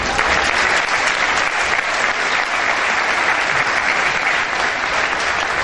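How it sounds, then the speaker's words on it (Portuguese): Church congregation applauding steadily and loudly throughout, a dense continuous clapping with no voices standing out. "Vamos aplaudir Jesus."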